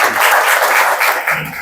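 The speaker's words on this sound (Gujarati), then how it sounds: "એમને પહેલાં તો તાળીઓથી વધાવીએ." An audience at a lecture bursts into continuous clapping to welcome the speaker, loud and dense throughout, easing slightly toward the end.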